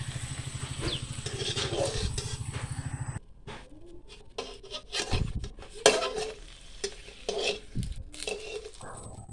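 Puri frying in a pan for a school tiffin brings a soft sizzle, joined by a rhythmic low pulsing at first, then clattering utensils and scraping in a home kitchen.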